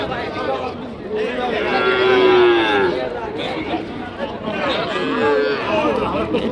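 Sahiwal cattle at a livestock market in Dinajpur give two long, loud, close moos, one drawn out in the middle and another near the end, over a background of crowd chatter.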